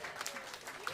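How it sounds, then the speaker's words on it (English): A live audience applauds at a band's concert, a dense, even patter of many hands clapping for about a second. "So should we give him a clap?"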